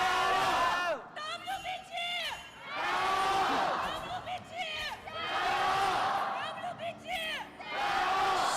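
An esports arena crowd at an LPL match chants loudly in repeated rhythmic bursts led by the JDG chant leader, with shouting voices swelling and dipping in waves.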